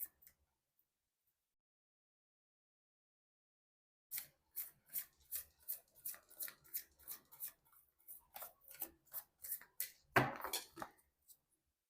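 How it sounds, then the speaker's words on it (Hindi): Tarot cards shuffled by hand, a steady series of soft, close ticking snaps and rubs after several seconds of silence, with one denser flutter near the end. "मैं कर लेती हूँ कार्ड की शफलिंग।"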